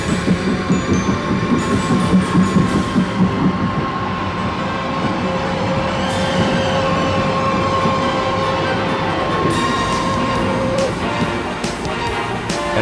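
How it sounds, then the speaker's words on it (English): Two coupled locomotives power into Oakworth station, a loud, sustained rail rumble with clattering wheels and metallic ringing that swells and persists throughout. "The two locomotives are coupled and present a spectacular sight powering their way into the"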